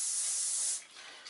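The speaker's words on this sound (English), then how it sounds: "I'll give it a quick spray with a hairspray" Hairspray hisses from an aerosol can in one steady burst of under a second, sprayed close over a pastel-weathered scale model, then tails off into quiet room noise.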